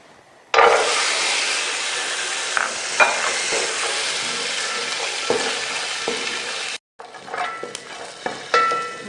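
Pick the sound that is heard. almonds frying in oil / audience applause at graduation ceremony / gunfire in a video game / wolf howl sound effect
almonds frying in oil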